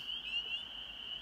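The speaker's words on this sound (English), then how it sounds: "And now they're in full force. You know, they're singing their medley here." Spring peeper frogs call in a steady, shrill, high-pitched chorus at night, faint and distant, with no other sounds over it.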